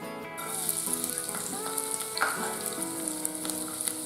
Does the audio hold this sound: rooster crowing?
no